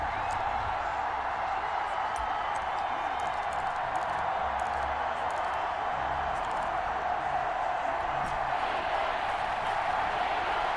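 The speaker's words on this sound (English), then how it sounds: "My God, this crowd is loud today." A loud stadium crowd roars continuously in a Madden 21 American football video game, a dense, even wash of cheering noise with faint clicks and no pause across the whole stretch.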